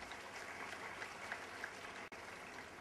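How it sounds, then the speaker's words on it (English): Faint, steady clapping from a college-day audience honoring students, an even wash of many hands with no voices, briefly cut by a click. "Special applause to all the students"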